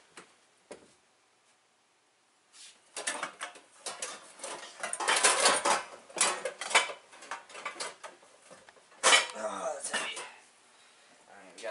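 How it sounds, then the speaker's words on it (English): Metal pots and pans clank and clatter as someone rummages through a kitchen cupboard, a run of close knocks and rattles after a quiet start, with a voice speaking over part of it. "Let's see if we have any pots in here."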